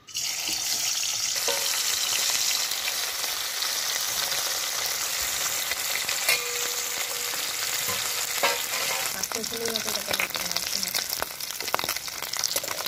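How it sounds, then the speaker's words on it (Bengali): River fish frying in mustard oil in a hot karahi, a loud dense continuous sizzle heard close up, with occasional clinks and stirring toward the end and no speech. "এবার মাছগুলো ভেজে নেব"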